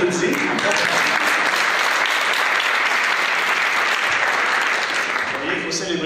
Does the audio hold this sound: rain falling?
no